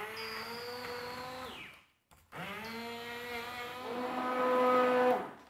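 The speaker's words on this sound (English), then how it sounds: "Straight in with the blitzer." A blender blitzes soup, whirring loudly in two bursts, the motor pitch shifting as it churns, with a brief pause between runs.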